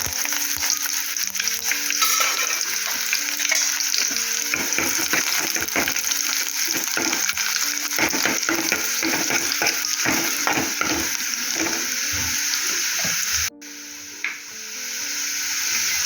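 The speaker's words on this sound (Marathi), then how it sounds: "लसूण लाल झाली आहे आपण त्यात आता कांदा टाकू" Onion hits hot oil with red-fried garlic and curry leaves, and a dense sizzle follows with crackling spatter as a utensil stirs and clatters through the pan. The sound cuts out sharply near the end.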